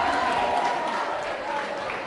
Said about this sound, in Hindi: तालियां जोरों से बजाओ इसके लिए।